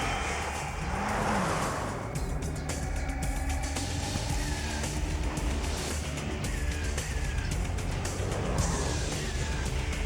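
Chevy Colorado pickup trucks in regular cab, extended cab and crew cab versions driving hard, a continuous roar of engines and tires with passing swooshes over layered background sound, no talking.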